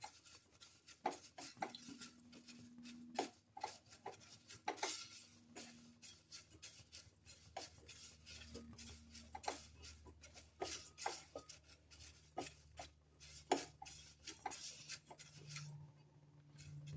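Rice flakes are sautéed in a pan, heard as quiet, irregular scraping and rustling strokes with light clinks. It sounds close and faint, and no one speaks.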